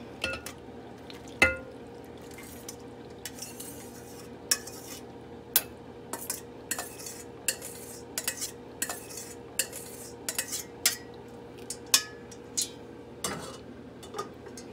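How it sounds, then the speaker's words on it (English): Macaroni is stirred into a cream of mushroom soup mixture, a spoon clinking and scraping against the bowl in a steady series of light taps over thick, wet squelching, close and fairly quiet. "And stir it real good."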